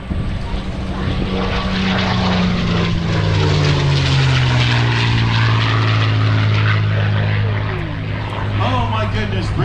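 A propeller airplane at an airshow in Orange County, New York, drones loudly overhead, its engine pitch sliding as it passes, with an announcer talking over it.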